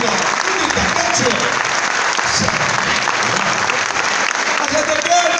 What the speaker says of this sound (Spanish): Fuerte el aplauso para Cachito, que es nuestro padrino artístico.